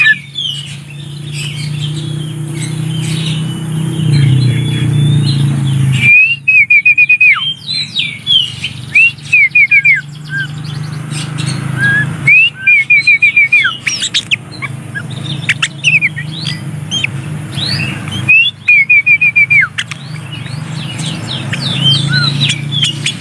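An oriental magpie-robin held in the hand gives repeated loud, close calls, chattering bursts and whistled phrases. A low hum sits under the calls, and the sound cuts in and out in short sections.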